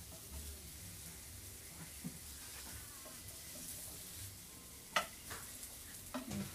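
Food fries in a pan with a faint, steady sizzle close by, broken by a few soft clicks and taps of utensils against the pan, and no voices.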